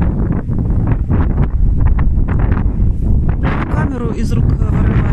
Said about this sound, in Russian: Ветер сильный, он не холодный, но сильный.